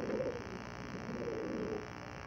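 Soft, low cooing from Sabaz Cheena pigeons repeats close by over a steady background hum, with no talking, in Lahore.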